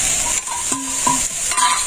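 Bitter gourd (ucche) frying in a pan, a steady bright sizzle with a few soft stirring scrapes, close and alone, no talk.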